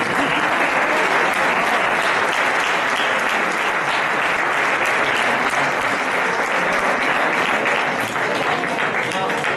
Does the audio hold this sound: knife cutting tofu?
no